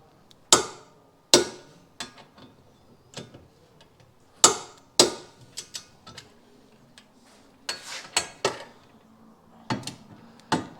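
Hefty M16 bolts on motorhome air suspension being tightened with a torque wrench, sharp metallic clicks and knocks in irregular clusters with quiet gaps between, close by and alone.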